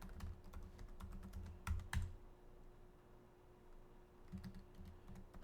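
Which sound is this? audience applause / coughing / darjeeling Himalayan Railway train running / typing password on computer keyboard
typing password on computer keyboard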